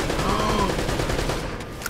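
Mounted turret gunfire in the video game Uncharted: Drake's Fortune, a dense, continuous rattling burst of rapid shots at moderate level, heard without speech.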